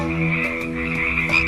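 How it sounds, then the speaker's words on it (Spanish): Frogs croak in a story sound effect, a dense chorus of low throaty croaks layered over a steady pulsing drone, loud and continuous with no voice over it. "Era una comunidad de ranas que vivía cómodamente en el fondo de un pozo abandonado."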